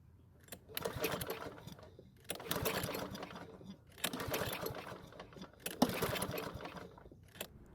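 Lawn Boy lawn mower being pull-started three or four times without catching, each rough cord pull bringing a brief rattling, whirring burst followed by a pause, close and fairly loud.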